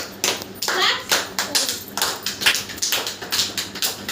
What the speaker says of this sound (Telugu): Claps claps claps. గట్టిగా క్లాప్స్.